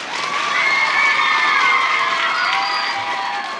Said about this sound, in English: Clap really loud if you like each book